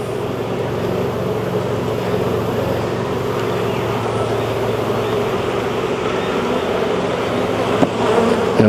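Honeybees swarm and buzz around an open beehive as frames are inspected, a loud, steady, dense drone that fills the whole clip up close, with no talking.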